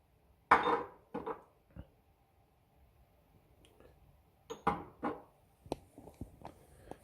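Ingredients for flourless low-carb pancakes, sweetened with stevia drops, are mixed in a bowl with a utensil. Sparse clinks, taps and scrapes come close and quiet, in short uneven bursts with silence between them.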